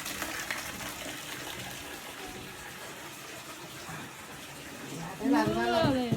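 Water runs from a tap to fill a bath, a steady hiss and gush heard under voices, with a person speaking more loudly near the end.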